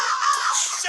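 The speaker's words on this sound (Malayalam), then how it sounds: "എനിക്ക് ഉറപ്പായി ഈ കാക്ക സൗണ്ട് ഉണ്ടാക്കും." A crow in the Metel horror game gives a single harsh, raspy caw lasting under a second, loud and close with no other sound.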